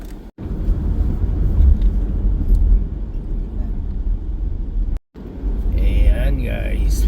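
Car traffic rolling along a Dubai road on a Friday morning, a steady loud rumble of engines and tires heard from inside a vehicle, briefly cut twice, with a voice talking faintly over the noise near the end.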